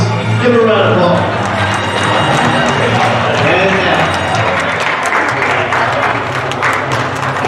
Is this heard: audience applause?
yes